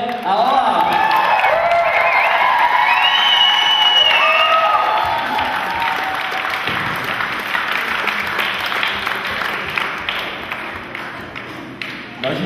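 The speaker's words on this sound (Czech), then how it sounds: "potlesk pro Miloše" A crowd applauds and cheers for a dancer, with whoops and shouting over steady clapping and some thumping, loud at first and then easing into a long, sustained round.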